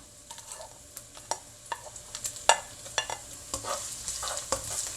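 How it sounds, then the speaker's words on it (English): Chopped onion dropped into about three tablespoons of hot oil for sauteed chayote, giving a steady quiet sizzle broken by sharp clicks and scrapes of stirring, with no voices. "I have about 3 tablespoons oil is heating here. To that I'm gonna add my onion."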